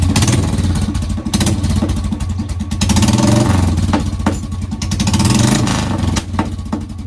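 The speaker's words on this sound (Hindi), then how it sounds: "बस बैक फायर, सुप्रा वाला फायर।" A Royal Enfield Classic 350 with a long Punjab silencer revs loudly and close, its throttle blips rising and falling with sharp popping backfire cracks between pulls.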